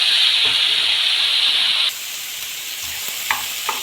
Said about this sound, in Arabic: انزل بالفلفل المكعبات ياخد تشويحتين